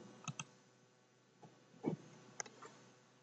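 Faint, sparse computer mouse clicks in a quiet room, a few soft taps spread across a few seconds with silence between them.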